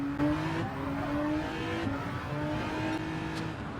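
Race cars in Gran Turismo 7 battle side by side into turn 1, several engines roaring and revving together with shifting pitches and a hint of tire squeal, loud and continuous with no talk.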